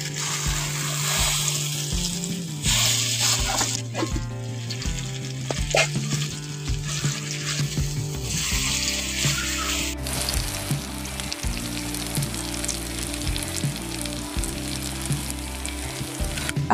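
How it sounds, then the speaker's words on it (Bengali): Elephant foot yam fritters sizzle steadily in hot oil, a dense crackling frying sound that runs throughout, with stirring clinks and a soft musical backdrop underneath. "অল্প অল্প করে কেটে নিয়ে এখন গরম তেলের মধ্যে দিয়ে দিচ্ছি"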